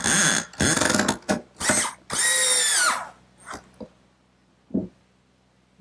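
A power drill drives a screw into the glued tenon of a wooden rocking horse seat, with several short whirring bursts followed by a longer sustained run, then a few faint clicks and taps.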